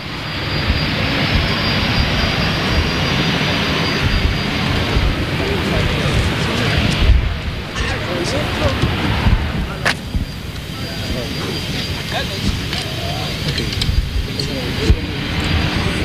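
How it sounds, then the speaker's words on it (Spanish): Air force aircraft roar low over a cadet graduation ceremony at Las Palmas air base in Peru, a loud sustained engine drone with a brief swell, under crowd and broadcast background noise. "de los aviones que forman parte de este desfile"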